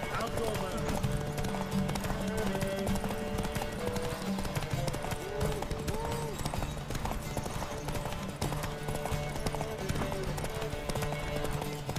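Rapid rhythmic hoofbeats of a galloping horse in the video game The Witcher 3 clatter continuously, with people talking over them throughout.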